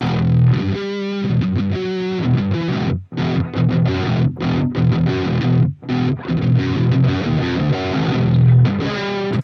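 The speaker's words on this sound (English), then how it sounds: "that characteristic mid tone of the distortion coming from this amp" A heavily distorted low-tuned 8-string electric guitar plays chugging chords and riffs through an amp, loud and thick, with a couple of brief stops.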